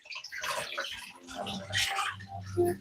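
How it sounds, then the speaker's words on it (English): Vegetables rinsed under cold running tap water, a steady broadband splashing hiss that rises and falls as the produce is moved through the stream, close by, with a person talking over it. "I'm rinsing off my veggies"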